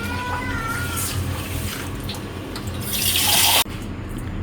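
Rice washed under a running tap in a home kitchen, a steady close splash and trickle of water that rises into a louder gush before cutting off sharply near the end.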